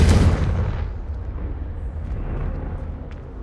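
A Confringo fire spell explosion in Hogwarts Legacy, a loud deep boom that hits at once and then fades into a long rumbling roar with no voices.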